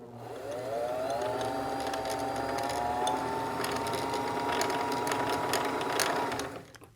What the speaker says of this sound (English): hit the pedal, and the machine will start winding thread onto the bobbin